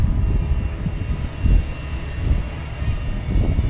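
Ryze Tello mini drone flying outdoors in wind, a steady close buzzing whir of small propellers mixed with gusty rumble that rises and falls.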